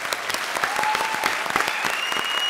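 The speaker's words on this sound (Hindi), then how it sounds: "जोरदार मेरी फिल्म के लिए ताली।" Studio audience applause on a Hindi TV comedy show, a dense, steady burst of many hands clapping at close range, loud and continuous without talk.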